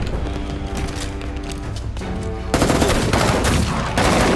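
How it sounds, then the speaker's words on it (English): Gunfire in a Spider-Man video game, rapid bursts of shots that sound like a machine gun, growing louder and denser partway through over the game's background sound. "I think a guy got shot."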